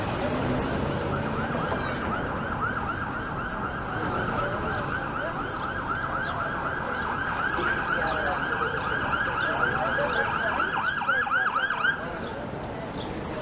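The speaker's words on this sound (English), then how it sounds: "It's a police car making its way down." A police car siren wails as it passes along a Toronto street near Ossington Avenue and Queen West, rising and falling steadily over city traffic noise, loud and close before cutting off near the end.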